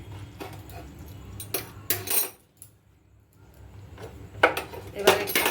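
A metal lid clinks and rattles down onto a pan of Bengali egg curry with potato and green papaya on a switched-off gas stove, several short metallic clinks close by with brief pauses between them.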